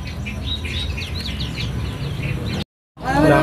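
Caged birds in a bird shop, among them young spotted prinias, chirp and tweet in quick overlapping bursts over a low hum and background chatter, with a brief cut to silence before the chirping returns close up.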